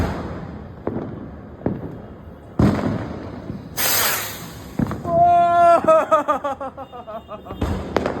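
A Diwali firework rocket launched out of a bottle whooshes upward with a rising hiss, then bursts with a sharp crackle and a whistling, warbling fizz, outdoors among a few scattered pops, with no talk over the launch.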